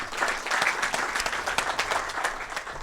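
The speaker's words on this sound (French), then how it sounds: "On peut l'applaudir, s'il vous plaît, pour ce qu'il a fait." Audience applause at an international health colloquium panel in Rabat, dense continuous clapping from a crowd filling the whole stretch at steady loudness.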